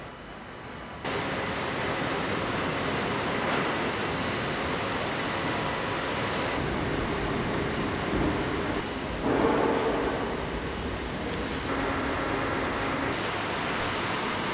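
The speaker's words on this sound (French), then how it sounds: "on a une machine sur rail, un petit peu comme un train, comme un wagon de train, qui permet de se déplacer" A rail-mounted log-handling machine at a sawmill gives a loud, continuous broadband rumble that shifts in character every few seconds as it travels and works, with no voices over it.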